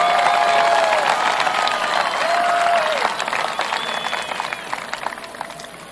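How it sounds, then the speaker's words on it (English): A large outdoor crowd at the Golden State Warriors 2015 NBA championship parade applauds and cheers, with scattered whistles rising above a loud, continuous wash of clapping that carries on throughout. "give yourself a great hand of applause because you deserve it"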